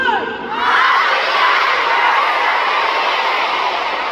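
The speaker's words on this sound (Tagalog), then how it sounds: "Pwede mo tayo sumigaw ng happy anniversary in 3, 2, 1!" A large crowd at a Fast Zone event bursts into a loud, unified shout of a greeting, followed by sustained cheering and screaming that fills the space for several seconds.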